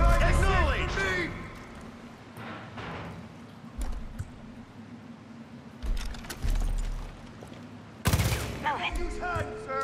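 Gunfire in a Far Cry 5 firefight: scattered bursts and loud shots crack through the scene, some close and sharp, with shouted voices heard between them.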